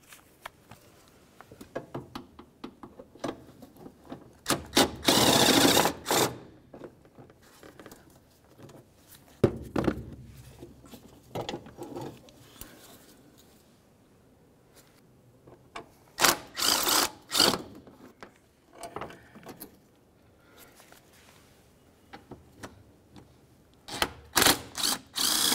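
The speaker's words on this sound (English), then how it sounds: "With that broken free, we can remove our 3 8-millimeter headed mounting bolts." Ratcheting and power tool work on the 8 mm-headed mounting bolts of a 2010–2013 Ford Transit Connect wiper transmission linkage, heard as loud bursts of whirring and clicking separated by quieter stretches of handling noise.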